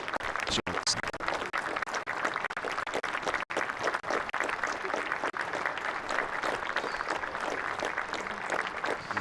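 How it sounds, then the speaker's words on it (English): Spectators applaud at a county championship cricket match between Durham and Leicestershire, a steady sustained patter of clapping from a modest crowd, heard at a distance for the whole stretch. "Hear the applause."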